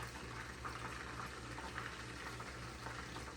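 Water poured into a pot of cooking cabbage, a steady soft splashing and bubbling wash that runs evenly throughout at low level with no voices.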